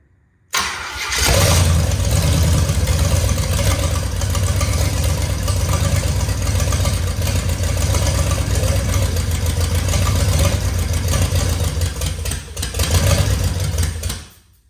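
An old 345 engine catches and runs loudly and steadily, a rough rumbling idle that continues for several seconds before cutting off.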